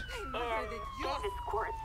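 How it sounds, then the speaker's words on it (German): Police car siren wailing in the video game GTA V, a rising and falling electronic tone running steadily throughout, close and loud, with speech-like chatter mixed underneath. "Ich muss mich echt mal dran gewöhnen, die Sirenen auszumachen."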